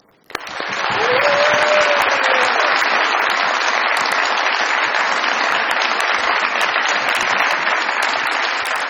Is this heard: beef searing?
no